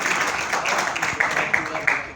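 An audience in a college hall at an Urdu poetry event claps and applauds loudly and steadily, a dense continuous wash of hands with a few sharper claps standing out near the end.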